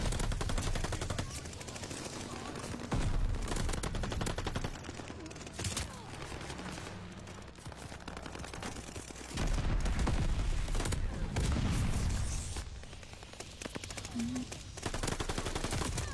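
Dense gunfire in a competitive ranked video game, rapid automatic bursts and continuous shooting in a loud, unbroken stream with occasional louder surges.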